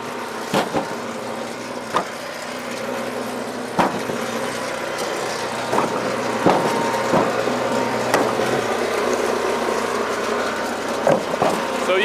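Power King kinetic log splitter driving through wood outdoors, a series of sharp cracking splits every second or two over a steady engine running underneath, with people talking.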